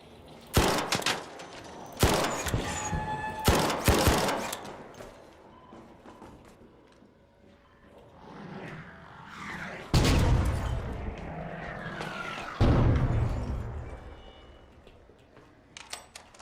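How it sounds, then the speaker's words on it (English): Video game combat with bursts of gunfire and booming grenade explosions, loud sharp blasts at intervals over a rumbling background, no talk. "I just need to keep throwing grenades."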